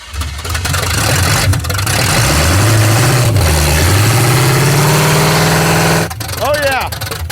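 A supercharged car engine, belt tensioner taped, runs loud and close, its pitch swelling and dipping through a couple of revs before climbing steadily, then cutting back near the end while people talk over it.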